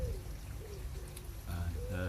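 Low soft coos from doves in an aviary repeat against steady background noise, with a brief voice or two nearby.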